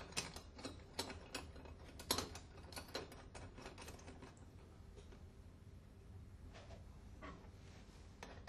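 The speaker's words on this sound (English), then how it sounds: "Fit the upper clamp and tighten." Clamp being tightened on an Alfa Laval valve during maintenance: a run of quick mechanical ratcheting clicks in the first few seconds, then quieter scattered ticks over a steady low background hum.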